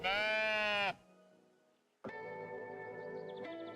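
A sheep bleats in the video game Tiny Glade: one loud, close, wavering call, then quiet, then a longer, softer call that carries on to the end, with no voices.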